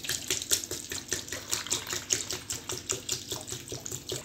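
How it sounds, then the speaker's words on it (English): Water poured into a pot over smashed dates for making date molasses, a steady close splashing and trickling stream with a rhythmic pulsing texture, heard alone. "I want the water to cover it to this level, almost 1 centimeter over the dates."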